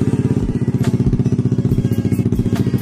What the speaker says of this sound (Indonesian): Kalau suaranya sih emang knalpotnya kayak gini